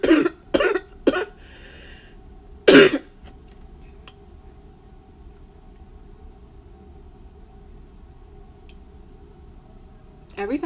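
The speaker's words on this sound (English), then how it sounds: "It's just a cough." A person coughs four times in quick, sharp bursts close to the microphone, then quiet room tone follows before a brief sound at the end.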